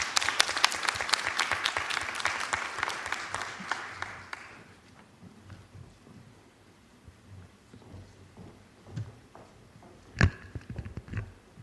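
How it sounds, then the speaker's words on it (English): Audience applause at a student research paper competition, a brisk burst of clapping that fades after about four seconds into quiet room noise with a few scattered claps and small sounds. "Please welcome them with a warm round of applause."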